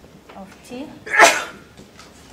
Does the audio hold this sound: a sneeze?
yes